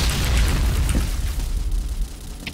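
A grenade blast in the video game Point Blank, a loud, broad boom at the start that rumbles and fades over a couple of seconds, heard alone without talk.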